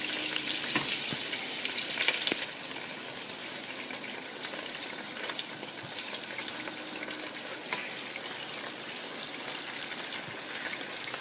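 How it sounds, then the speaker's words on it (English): A pre-cooked tortilla is warmed on a hot plate oiled with a drop of olive oil, giving a steady close sizzle with faint scraping ticks throughout. "Add my tortilla to my hot plate here."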